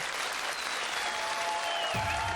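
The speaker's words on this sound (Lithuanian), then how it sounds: "Plojimai." A studio audience at a Lithuanian TV comedy show claps in a dense, steady burst of applause that fills the whole moment, loud and close.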